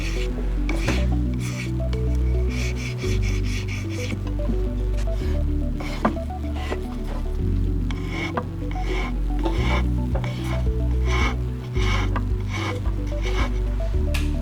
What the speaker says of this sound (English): Now I'm going to go with the sandpaper buff stick from coarse to fine and blend all this in,